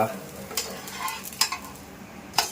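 A dosa sizzling on a hot griddle with a few sharp scraping clicks from a spatula, close by and fairly quiet, no voices.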